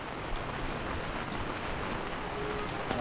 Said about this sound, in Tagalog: Ang lakas ng ulan ulit ano.